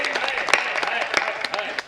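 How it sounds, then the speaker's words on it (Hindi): Audience applause at a Hindi comedy poetry gathering, a short burst of clapping mixed with crowd murmur and a voice or two over it, fading toward the end. "तालियां।"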